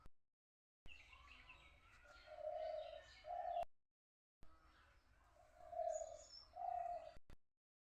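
Spotted doves cooing softly in a home courtyard, repeated low coos in two short bursts separated by silence, faint and fairly near.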